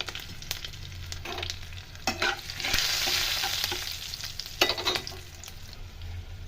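Tempering spices with Kashmiri chili powder fried and stirred in a pan for a flattened-rice breakfast, a close sizzle broken by repeated spatula scrapes and knocks, rising to a fuller hiss midway, with no speech.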